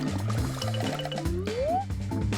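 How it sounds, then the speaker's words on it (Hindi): Soft watery splashing and gurgling as colour pencils are dipped into water, brief and close, set against background music. "इन्हें पानी में डिप करती हूँ जब तक कि गीले ना हो।"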